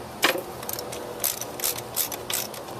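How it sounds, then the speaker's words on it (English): A 3/4 inch socket wrench ratchets in short, quick bursts of clicks while unbolting the spark plug on an Echo line trimmer. The clicks are close, fairly quiet and separated by brief pauses. "unbolt that with your spark plug wrench. So it uses a 3/4 inch socket wrench"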